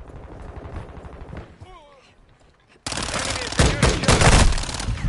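Video game gunfire starts abruptly partway through as loud, rapid automatic bursts that continue densely to the end, preceded by quieter game ambience and a brief voice.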